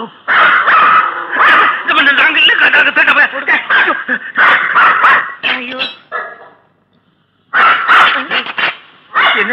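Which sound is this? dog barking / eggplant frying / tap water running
dog barking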